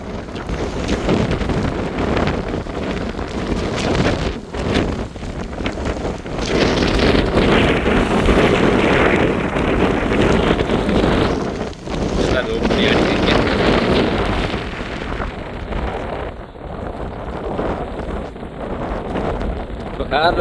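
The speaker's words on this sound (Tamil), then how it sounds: "சரியா காற்று அடிக்குது இந்த நேரத்தில்" Strong cyclone wind in Jaffna roars and buffets steadily across the microphone for the whole stretch, loud and rushing, with a voice talking beneath it.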